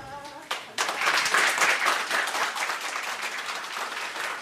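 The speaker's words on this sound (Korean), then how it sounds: "희아씨가 박수갈채와 함께 등장합니다" An audience bursts into applause at an event as a pianist with four fingers enters, starting after a brief voice and holding a dense, steady clapping roar to the end.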